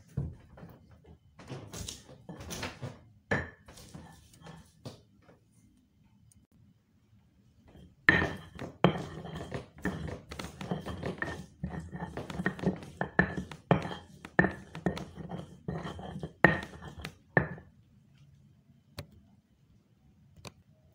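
Garlic cloves pounded into a paste, rapid uneven knocks of a pestle or grinder against a hard mortar, sparse at first, then a dense close run of thuds before tapering off.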